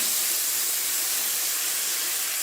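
Tomatoes cooking in a pan for an Indian runner bean curry give off a steady, loud sizzling hiss that stays even and unbroken throughout.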